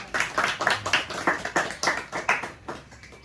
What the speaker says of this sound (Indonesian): Kasih tepuk tangan dulu buat Dimas.